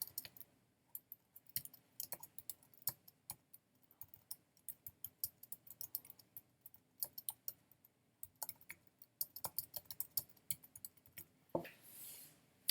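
Code is being typed on a computer keyboard, a quiet, close run of irregular key clicks in quick bursts with short pauses, no voices.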